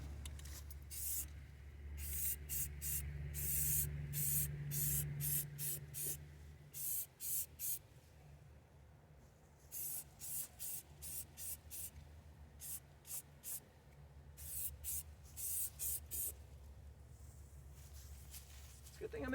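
Protective coating sprayed from an aerosol can into the inside of a car bumper in a ventilated workspace, a close series of sharp hissing bursts, some long and some short, in quick rhythmic succession.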